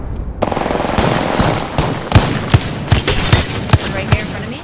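Rapid automatic gunfire in the Apex Legends battle royale, a dense rattling stream of shots with several louder sharp cracks standing out near the end, close and loud.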